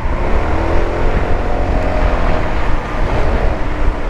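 A car drives through city traffic, its engine and road noise forming a loud, steady rumble with slight swells as it moves, heard up close with no talking.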